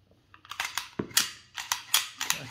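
US Army pistol being handled as its magazine is removed, a quick series of sharp metallic clicks and snaps, close and crisp in a quiet room.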